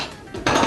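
A large plate is handled while salad is served, giving a soft scrape followed by a sharper clatter of crockery and a brief knock, with no speech.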